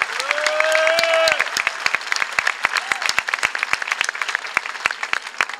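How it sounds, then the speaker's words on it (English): An outdoor crowd at a 2010 St Louis Tax Day Tea Party claps in a round of applause, a few loud cheers and whistles up front fading into sparse, distinct claps. "Let's give them a round of applause"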